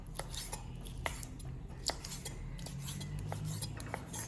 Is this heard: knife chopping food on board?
yes